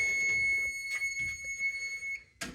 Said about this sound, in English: fire alarm system test 42